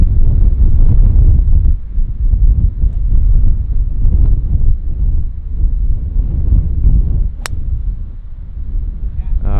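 Strong coastal wind sweeps across a golf course in East Lothian and buffets the microphone. It makes a loud, continuous low roar and rumble that swells and dips throughout.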